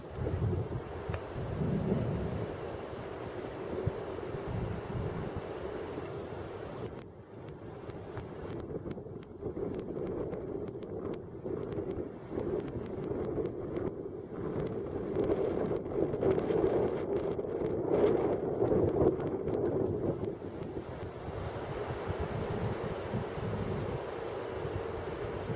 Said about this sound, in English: I'd say it's pretty windy, wouldn't you?